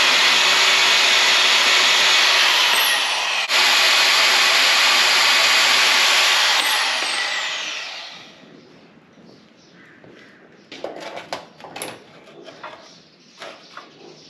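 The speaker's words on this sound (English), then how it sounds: "I can get my portaband and cut this off a little bit lower" Portable band saw cutting through steel pipe for a fence gate latch, a loud steady whine that winds down after several seconds, followed by clanks and handling knocks.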